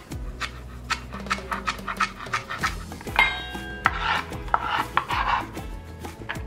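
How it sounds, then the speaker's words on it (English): Celery is chopped with a knife on a cutting board for shepherd's pie, heard as a quick run of sharp, close chops, steady at first and then busier and denser, with no voices. "Now chop your celery."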